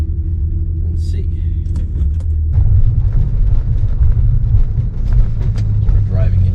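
A VR6-powered car rolls along on a test drive after transmission work, its engine a loud, close rumble that deepens and roughens as it pulls away, with a brief chirp early on.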